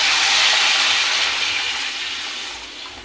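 Water poured from a vessel into a hot pan of fried tomatoes and turmeric for tomato upma, a loud rushing hiss and sizzle that starts strong and gradually fades over a few seconds.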